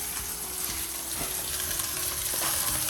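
Eggplant cooking in olive oil in a pan for a vegan stew, a dense, steady sizzle close by with faint scraping clicks now and then.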